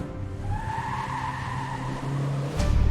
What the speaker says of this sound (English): He gets in his car and drives away.